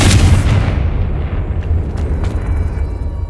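A Confringo spell blast in the video game Hogwarts Legacy hits as a loud, deep boom at the start, then trails off into a sustained rumbling roar with a few faint crackles.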